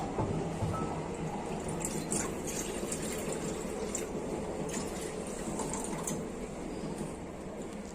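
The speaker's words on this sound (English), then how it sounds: "So I am going to pour this water to this kadai." Water pours steadily into a kadai while a sweet dish of gulab jamun is being made, a continuous close splashing and filling rush with no talk over it.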